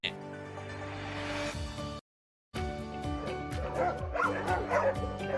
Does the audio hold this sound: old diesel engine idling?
no